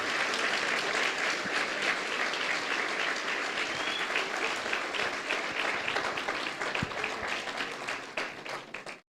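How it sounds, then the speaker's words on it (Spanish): A church congregation claps steadily and loudly for about nine seconds, a dense wash of applause that holds up before tapering off at the end. "le dan un fuerte aplauso al Señor"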